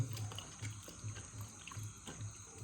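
Large estuary shellfish from a creek are swished and rinsed in a vessel of water, producing a soft, steady sloshing with faint drips and splashes, quiet and continuous without speech.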